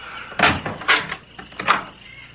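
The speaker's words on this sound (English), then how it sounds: "Not till I open the door to the closet." A closet door in a radio drama is worked through about three soft, close knocks and rattles spread over two seconds, each a short bump with a faint creak of wood between them, heard on its own.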